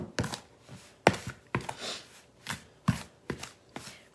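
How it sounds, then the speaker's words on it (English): A pastry cutter works grated butter into scone dough, giving a series of sharp close crunching strokes at a roughly regular pace, about eight in a few seconds. "And then you want to just cut your butter into that."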